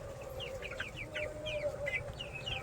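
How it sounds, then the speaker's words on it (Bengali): Chickens on a small backyard chicken farm, a run of soft, quick clucks and chirps from several birds at close to middle distance, over a low hum, no talking. "দেখো আমার ছোট্ট মুরগির খামার।"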